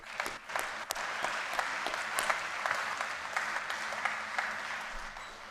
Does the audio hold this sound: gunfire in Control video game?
no